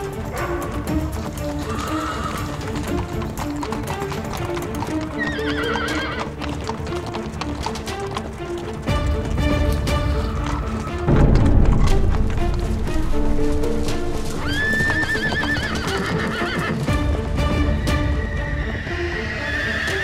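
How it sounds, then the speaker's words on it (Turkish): Several horses gallop away in a drama scene: dense clip-clop hoofbeats rumble throughout while repeated shrill neighs and whinnies cut through near and loud, with a busy, layered soundtrack under them. "Atlar kaçıyor! Atlar kaçıyor!"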